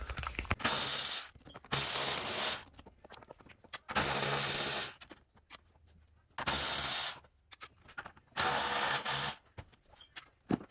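Bolts come off a 2005 Toyota 4Runner 4.7L engine with a ratchet or power tool in five loud bursts of grinding, whirring mechanism, separated by short pauses and faint clicks.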